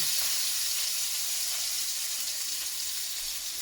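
Onion sizzling in hot rendered fat, a steady bright frying hiss that continues evenly without pause, close and fairly quiet.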